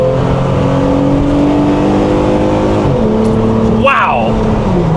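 A modified Chrysler Prowler's engine revs hard under continuous loud noise, the pitch climbing, then dropping briefly for a gear change before a short tire chirp in second gear.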